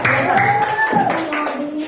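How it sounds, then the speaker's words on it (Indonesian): Classroom students clap briefly for a group during a lesson, the short burst of hand claps mixed with a tonal voice or sound and some background noise. "Tepuk tangan untuk awal kelompok 3"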